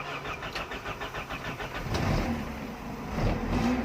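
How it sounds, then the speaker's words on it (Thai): A 2001-2008 Toyota Corolla Altis engine starts after an oil change: a rhythmic starter cranking for about two seconds, then the engine catches and settles into a steady idle with a slight rev, heard close and alone. "แล้วก็สตาร์ทเครื่องนะครับ"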